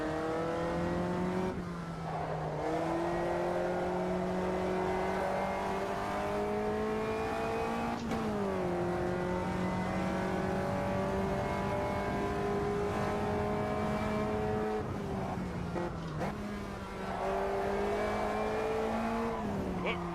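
Race car engine droning in a racing video game, holding high steady revs with brief dips and swells as the car drifts, with tire scrubbing beneath.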